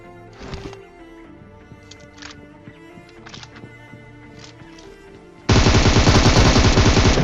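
Enemy footsteps in a first-person shooter match, rapid repeated steps on a staircase, heard faintly among game noises before a loud burst of machine-gun fire takes over near the end.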